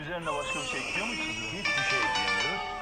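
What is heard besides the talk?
No everyday noises stand out.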